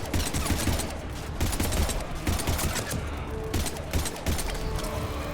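Continuous gunfire in the sci-fi game Mass Effect 3, dense rapid shots and bursts layered over a busy combat background, loud and near throughout.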